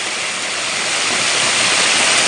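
Gembleng waterfall in Sidemen pours in a steady, loud broadband roar of falling water, heard close and alone without voices.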